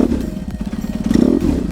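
A BMW R 1150 GS boxer-twin motorcycle engine revs up loudly and close by, a throbbing low rumble that rises and swells across the short burst with no talk over it.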